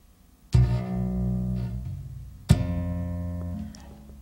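Tapped strings on a Chapman Stick ring out in two clear attacks, each a bright struck chord of sustained notes decaying slowly, the second starting two seconds after the first; close and alone, no talking.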